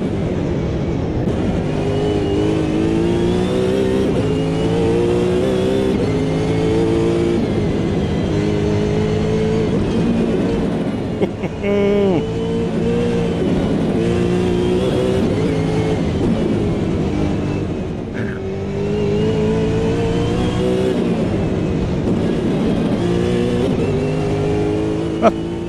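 Supercar engine in the Automobilista 2 racing game revs hard and continuously, rising and falling through gear shifts with loud, aggressive tone, sustained throughout.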